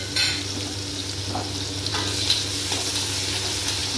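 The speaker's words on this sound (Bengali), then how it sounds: "ভালোভাবে কিন্তু পেঁয়াজটাকে ভেজে নিচ্ছি।" Sliced onion fries in hot oil seasoned with cumin and asafoetida, giving a continuous close sizzle with occasional stirring scrapes and small crackles, no voices.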